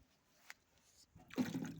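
Water is poured to top up farm animals' drinking water, a short splashing gush that starts after a quiet lead-in, close and fairly soft.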